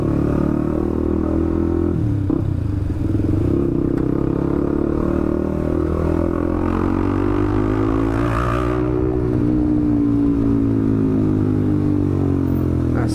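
A loud motorcycle exhaust runs without its dB killer silencer on a busy night street, a steady close drone that rises in a rev around the middle, with traffic noise behind it.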